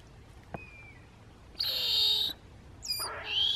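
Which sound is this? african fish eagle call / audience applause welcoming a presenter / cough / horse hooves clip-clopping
african fish eagle call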